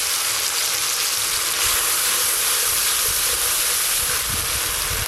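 A masala of melted tomatoes, dried red chillies and mustard paste sizzles loudly in a pan as a fish curry base, with a dense, continuous hiss that holds steady throughout.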